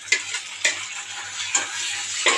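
Steady sizzling of onions frying in a pan, with a few sharp scrapes of stirring scattered over the hiss.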